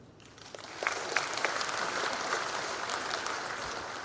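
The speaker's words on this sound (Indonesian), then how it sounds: "Ini yang harus kita tepuk tangan" Audience applause at a political speech in Indonesia, a dense crowd of clapping that swells within the first second and holds steady and fairly loud to the end, with no voices over it.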